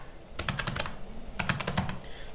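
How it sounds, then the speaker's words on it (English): Quick keystrokes on a computer keyboard typing Ctrl L, two short clusters of close, crisp clicks separated by a pause. "So let me hit Ctrl L"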